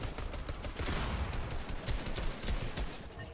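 Gunfire in the video game Fortnite, with a dense crackle of rapid distant shots going on throughout, fairly faint, with no talk.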